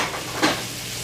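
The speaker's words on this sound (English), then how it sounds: "So I kind of let this fry." Smothered pork chop gravy fries in a pan with a soft, steady sizzle and a short stirring scrape near the middle of a brief moment.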